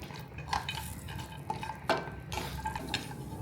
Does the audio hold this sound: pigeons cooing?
no